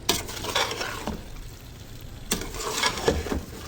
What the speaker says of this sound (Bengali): এখন চাল ভালো করে ভেজে নিব তারপর অল্প পানি দেব